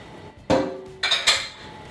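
A metal utensil scrapes and knocks against a pan while batter is spread across it, giving a loud clatter followed by two more sharp metallic scrapes, close up and with no talking.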